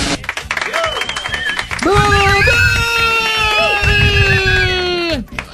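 Loud, steady applause and cheering from an audience at a live show, greeting a song. Sustained high shouts and whoops ring over the dense clapping and fade at the very end.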